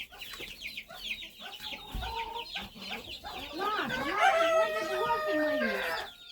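Poultry cluck and squawk up close as a turkey goes after chicks, with agitated bursts of chicken calls rising into a busier, overlapping flurry toward the end.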